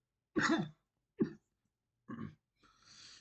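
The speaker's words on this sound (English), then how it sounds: "Sorry, the coughing." Several short, rough coughs from a streamer come in a broken sequence, close and fairly quiet, the last one trailing off breathily.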